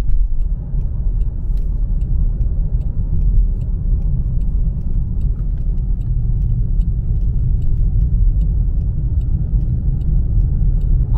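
A 2021 Jaguar XF R-Dynamic S P300 sedan driving and cornering, heard from inside as a constant loud low rumble of engine and road noise with faint light rattles, no voices.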